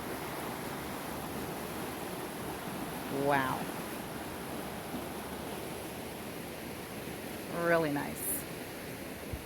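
Snowmelt river rushes steadily beside small houses in a Colorado state park, a broad continuous wash of water heard up close, with a man's brief spoken remarks twice over the flow.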